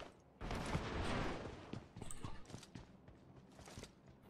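Gunfire in the mobile battle-royale game PUBG Mobile: a loud burst of shots followed by scattered sharper cracks and sniper fire, with distant game ambience between them.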